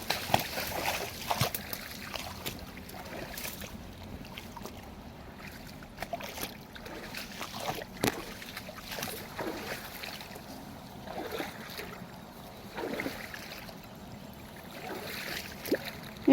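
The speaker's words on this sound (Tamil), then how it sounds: "அந்த கிணத்துல இருந்து தண்ணி டேரெக்டாக இந்த மாதிரி இந்த ஓடையில் பாஞ்சு அப்படியே தென்னம்பிள்ளைக்கெலாம் வந்து பாயும்" Well water running along a channel to coconut saplings on a farm, with soft sloshing and trickling punctuated by irregular splashes, fairly quiet and steady.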